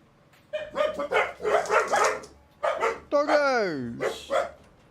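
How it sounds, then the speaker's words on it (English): Several dogs bark and yip close by in rapid bursts, one drawing out a falling whine-like howl, while a voice speaks between and over them. "Doggos!"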